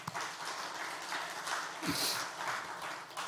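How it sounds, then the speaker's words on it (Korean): A church congregation breaks into applause, a steady wash of clapping from many hands at moderate distance, lasting the whole moment with no clear talk over it. "큰 박수 하겠습니다."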